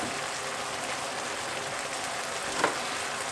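Steady sizzle of white fish frying in a pan as onions are dropped in, with one brief sharper burst near the end; close, moderately loud, no talking.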